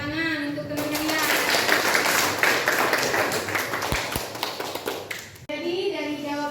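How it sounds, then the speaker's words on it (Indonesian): A school class claps together for several seconds during a debate lesson, the dense patter of hands briefly covering a voice that talks before and after. "Tepuk tangan untuk teman kalian."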